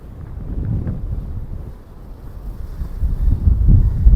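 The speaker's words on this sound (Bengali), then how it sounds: "এই দিক থেকে কি পরিমাণে যে জোর জোরে হাওয়া ভেসে আসছে" Strong wind roars and buffets steadily at close range on a beach at Golden Bay, Malta, a low rumbling rush that swells louder toward the end, with no voices.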